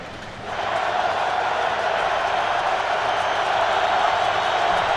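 A vocal Baltimore football stadium crowd roars in a sustained, dense wash of cheering that swells after a quieter first half-second and holds loud to the end, with a commentator's voice over it.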